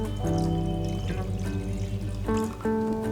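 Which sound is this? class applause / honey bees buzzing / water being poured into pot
water being poured into pot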